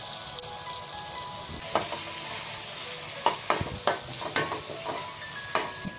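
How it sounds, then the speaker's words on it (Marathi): Masala sizzles and fries in a pan of egg curry, with a steady crackle broken by sharp scrapes and knocks of a spoon stirring it up close. "बघा आता आपला मसाला मस्त यामध्ये मिक्स होणार."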